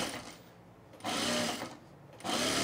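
A sewing machine stitches lightweight cargo-shorts fabric right sides together, its motor whirring in two loud, steady bursts separated by a quieter pause, close and alone.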